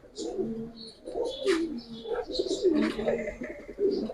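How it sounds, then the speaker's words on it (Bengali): Indian high-flyer pigeons, a prized top-quality pair, coo in a close, steady series of soft throaty calls, with brief higher chirps now and then. "ইন্ডিয়ান হাইফিলার মাখা কবুতর"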